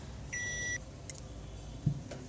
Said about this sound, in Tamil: பீப் சவுண்ட் வந்துடுது.